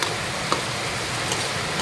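Heavy rain pours down outside a home kitchen in a continuous, dense hiss, loud and unbroken across the whole moment.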